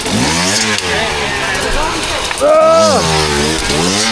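Motorcycle engine revving with a loud, rising throttle blip near the end over a rough idle, while people talk nearby.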